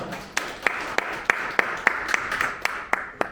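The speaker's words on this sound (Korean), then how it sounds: "큰 박수를 맞아주시기 바랍니다" Scattered applause from a small conference audience, individual claps ringing out steadily for a few seconds, nobody speaking.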